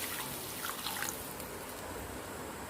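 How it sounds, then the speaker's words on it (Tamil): Water pours steadily into a cooking pot, about three cups, a continuous close splashing rush with no voices. "தண்ணி ஆட் பண்ணிக்கிறேன்."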